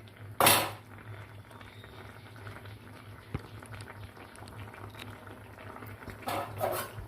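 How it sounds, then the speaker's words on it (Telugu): A cabbage and moong dal curry is mixed with a utensil and a lid set on the pot, giving a sharp metallic clank at the start and more clattering near the end over a low steady hum. "ఇప్పుడు అంతా ఒకసారి కలుపుకొని మూత పెట్టుకుందాం."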